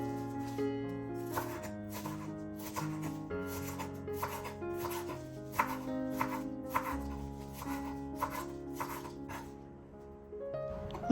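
A knife taps rapidly and evenly on a cutting board while finely chopping parsley, a long run of close, crisp chops over a steady background drone, slowing toward the end.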